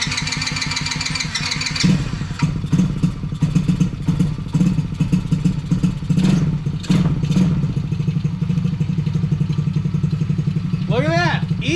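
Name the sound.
TaoTao 110cc kids ATV engine starting and running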